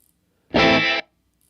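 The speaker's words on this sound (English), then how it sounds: "It just has a gated reverb." A guitar chord runs through the gated reverb of a Boss RV-200 reverb pedal, a dense, distorted-sounding burst lasting about half a second that cuts off abruptly into silence.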